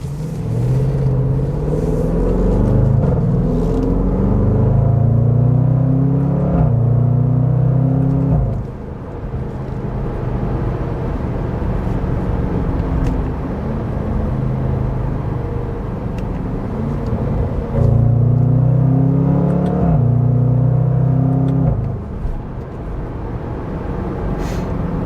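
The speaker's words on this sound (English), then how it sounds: "The snorting of that exhaust, it's like an angry hippo." Range Rover Sport SVR Ultimate Edition exhaust, deep and rumbling, with heavy snorting bursts as the throttle opens and eases, loud and close over a steady drone for about twenty-five seconds.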